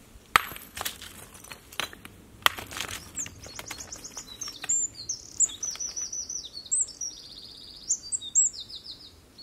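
A skylark sings on a farmstead, its rapid warbling, trilling phrases running steadily through the second half over faint outdoor noise, with a few sharp knocks or chops early on.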